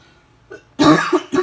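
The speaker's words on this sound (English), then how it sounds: "Sorry for my cough" A cough bursts out loud and close after a faint earlier sound, followed by a second short cough, from someone suffering allergies while handling a Transformers Last Knight Premier Edition Voyager Hound figure.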